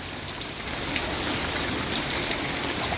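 Heavy rainfall in Slovenia pours down as a dense, steady hiss of drops hitting surfaces, loud and unbroken throughout, with no voices.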